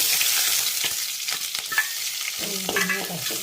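Chopped onion frying in hot oil just after mustard seeds have popped, for a Kerala banana blossom thoran, a close, continuous sizzle broken by scraping stirs and a few sharp crackles.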